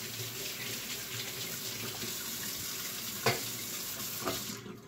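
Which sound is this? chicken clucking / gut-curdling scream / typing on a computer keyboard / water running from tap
water running from tap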